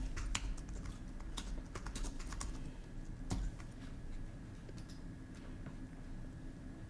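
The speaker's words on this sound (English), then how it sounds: "you can just start typing" Lyrics being typed on a computer keyboard, a quiet, close stream of irregular key clicks with occasional firmer taps and no voices.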